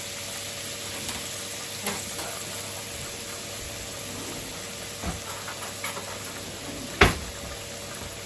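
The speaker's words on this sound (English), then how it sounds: "we're gonna fry or saute, whatever you want to call it, the onions and the peppers in this oil" Onions and peppers frying in oil for smothered chicken, giving a steady close hiss of sizzling with a few faint clicks and one sharp utensil knock near the end.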